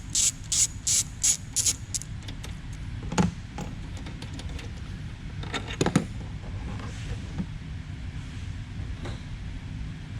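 A ratchet works loose a 10mm bolt on the fender apron of a 2014-2019 Chevrolet Corvette: a quick series of sharp clicks up front, then sparse clicks and metallic handling sounds, close and fairly quiet, with no talking.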